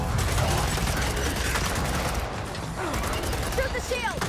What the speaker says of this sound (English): Everybody shoot it, please.